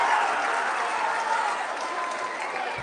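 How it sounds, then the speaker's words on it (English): A loud crowd at a high school basketball district championship game in St. James cheers and claps continuously, a dense roar of voices and applause filling the arena. "Loud Salem crowd making some noise here in St. James."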